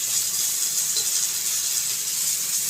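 Spice powder hitting hot oil for a rohu fish and cauliflower curry gives a steady, close sizzling hiss that holds evenly throughout.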